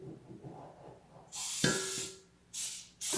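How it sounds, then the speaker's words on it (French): No-fat cooking spray is misted into a mixing bowl in three close, loud hissing bursts, a long one followed by two shorter ones, with quiet room noise between them. "using a no-fat cooking spray to put in my bowl"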